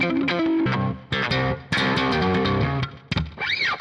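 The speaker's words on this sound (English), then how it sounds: "Very, very cool compressor sound." Electric guitar played through a compressor pedal capture. Short, punchy, evenly squeezed notes and chords come in bursts, ending with a sweeping effect tail, with no talking.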